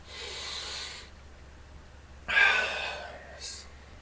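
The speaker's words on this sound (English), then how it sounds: "So again, I'm breathing." Two heavy, breathy exhalations through the nose or mouth during qigong practice, separated by a pause, followed by a shorter hissing breath; close and fairly loud.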